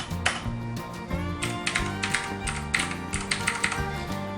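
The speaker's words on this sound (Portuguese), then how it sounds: "Só escuta o barulhinho do teclado." Redragon Kumara K552 mechanical keyboard with Cherry MX-style switches being typed on, a brisk, uneven patter of sharp clacky keystrokes close up, alone without speech.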